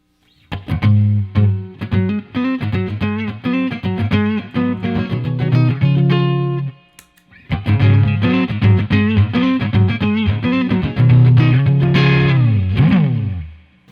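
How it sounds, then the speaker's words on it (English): An electric guitar through a clean boost pedal plays choppy chords and riffs with a slightly gritty, saturated tone, pausing briefly midway before continuing loud and close. "This is supposed to take signal from my guitar and make it a little bit louder"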